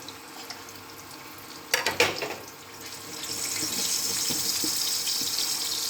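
Egg-coated chicken nargisi kofta balls drop into hot oil with a brief burst of splashy bubbling, then a steady, fairly loud frying hiss that keeps on with no talk.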